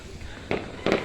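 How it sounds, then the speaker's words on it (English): Fireworks going off outdoors on Bonfire Night, two distant bangs about half a second apart over faint background noise. "Oh, there's more going off over there now."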